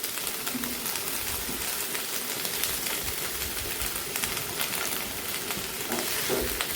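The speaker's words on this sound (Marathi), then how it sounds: "आता याला छान आपण तेलावरच छान परतून घ्यायचं" Chopped ivy gourd and sliced potato sautéing in hot oil, a dense, continuous sizzle with faint stirring clicks, close and steady the whole time.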